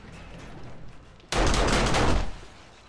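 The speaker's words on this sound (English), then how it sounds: "Some stuff shooting when it shouldn't be shooting." Sudden burst of rapid automatic gunfire in 7 Days to Die, left running on switches, loud and continuous for about a second before cutting back to a quieter background.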